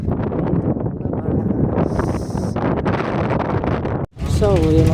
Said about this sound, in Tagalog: malakas na rin yung hangin at also nandyan na rin yung sunstorm